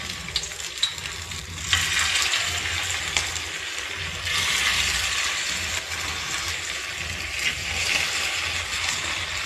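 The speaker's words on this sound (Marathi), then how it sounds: "मग आता हे तळून घेऊ, म्हणजे भाजून घेऊ याला असं मस्त." Fenugreek banana fritters fry in hot oil, giving off a steady sizzle and bubbling hiss that continues throughout, with occasional small clicks and swells.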